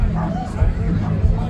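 A dog barks and yips at an outdoor dog show during a steam threshing festival and car show in Moynalty, Ireland: short, loud, repeated barks close by, over steady crowd babble.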